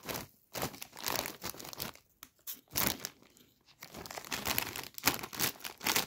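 Bags of chili-lemon Lulu Puffs snacks crinkle and crunch as they are handled and squeezed, with loud irregular bursts of plastic rustling close to the microphone and no talking.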